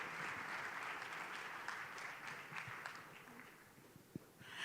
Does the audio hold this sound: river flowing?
no